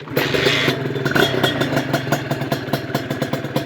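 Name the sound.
motorcycle engine running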